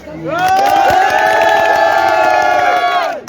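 A crowd of Brazil football supporters bursts into a loud, sustained cheer with whoops and shouts, holding for about three seconds before trailing off.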